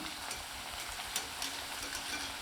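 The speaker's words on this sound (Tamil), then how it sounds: "திருப்பி போட்டு நல்லா முறுமுறுப்பாக வெந்து சலசலப்பெல்லாம் அடங்கி வரும்போது தாங்க நம்ம எடுக்கணும்" Cabbage and onion pakoda deep frying in hot oil, giving a steady, soft, continuous sizzle and bubbling with occasional small crackles, close but fairly quiet, with no talk.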